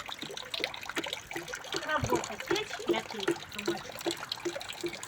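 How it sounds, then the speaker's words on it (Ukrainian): Water trickles and gurgles close by at an outdoor garden plot, a continuous liquid burble with small splashes, heard beneath people chatting nearby. "Ось як водичка дзюрчить."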